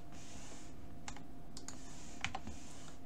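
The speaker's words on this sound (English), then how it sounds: "I still have to hit G and click to keep the motion track." A computer keyboard key is pressed and a mouse is clicked during Blender motion tracking, producing a few quiet, crisp, close clicks and taps against soft room hiss.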